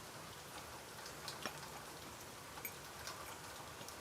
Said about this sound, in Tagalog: Maaraw, pero umuulan.